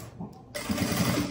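A sewing machine whirs on briefly at the start of a seam, backstitching while sewing a handbag, a close, steady mechanical hum after a short muffled lead-in.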